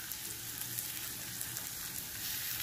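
Bombay duck fish with potatoes sizzles in oil as it dries out in the pan, a faint, steady crackling fry with light popping and no voices.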